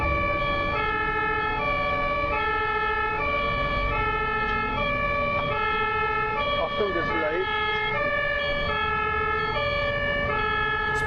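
A German ambulance siren wails in a steady two-tone hi-lo pattern, loud and close, repeating evenly over road traffic noise with a brief swooping tone partway through.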